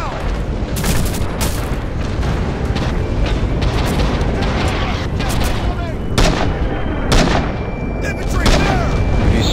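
Dense gunfire crackles through a World War II battle on Betio in the video game Rising Storm: rapid, loud shots and booming blasts overlap almost continuously, close and far.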